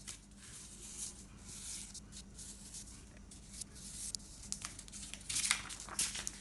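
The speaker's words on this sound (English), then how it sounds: "we're going to carefully cut around the frame of our game board" Cardboard is cut around the frame of a homemade game board, with soft scraping, crinkling and short rasping cuts, quiet and close, growing a little busier toward the end.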